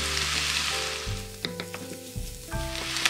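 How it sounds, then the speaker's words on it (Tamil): Onion, ginger paste, egg and chillies frying in a pan for chicken noodles, a close steady sizzle with a few stirring scrapes, overlaid by intermittent steady electronic-sounding tones. "இந்த வெங்காயம் இந்த இஞ்சி பேஸ்ட் முட்டை எல்லாம் வதங்கி வரைக்கல இதோட இந்த மிளகாய சேர்ப்போம்"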